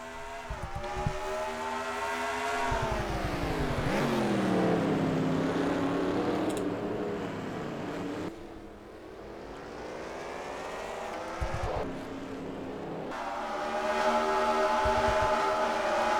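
Race cars roaring through a green flag start at the Dubai track in an NRSL Outback Xfinity Series sim race, a dense pack of engines droning and rising in pitch together, loud and continuous, with brief shifts and surges as the field accelerates.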